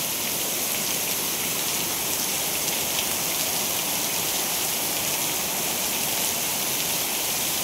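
Heavy rain pours during an afternoon thunderstorm as a dense, steady, loud hiss of drops on surfaces, with no talking.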